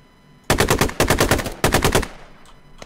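Three rapid bursts of automatic fire from a close-range weapon in the tactical shooter Squad, each a loud string of sharp shots, followed by a fading tail and a faint distant pop.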